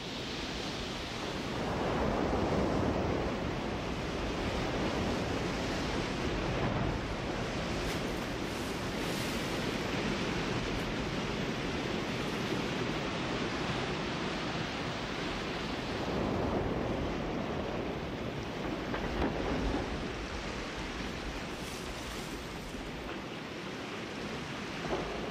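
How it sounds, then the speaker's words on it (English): Frigid water churns among drifting slabs of blue ice along the Patagonian shore, a continuous rushing surge of waves that swells and recedes in a loud, unbroken wash, with no voices. "Giant slabs churn the frigid waters below, creating waves of blue ice."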